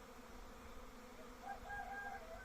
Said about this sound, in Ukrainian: І рій сідає на нього.